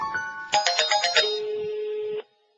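An incoming call sets a phone ringing with a bright electronic ringtone: a quick run of chiming notes, then a long sustained tone that cuts off abruptly, loud and close, with no one talking over it.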